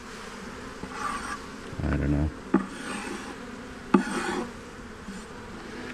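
Bees buzz in a steady droning hum from a clump in a hive corner during a bee yard inspection, with brief bursts of louder buzzing and a few faint spoken words.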